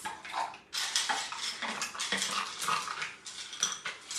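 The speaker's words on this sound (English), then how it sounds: "I'm gonna add some ice" Ice cubes clatter and clink into a glass for a SodaStream drink, a busy run of bright knocks and rattles close up, with no talk.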